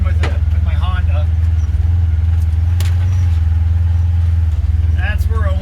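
A Polaris General XP4 side-by-side utility vehicle crawling in two-wheel drive through a rutted, muddy corner, its engine droning steadily and close, with someone speaking briefly at intervals over the motor.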